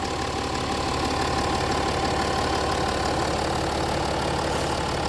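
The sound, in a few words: Jaguar XF engine idling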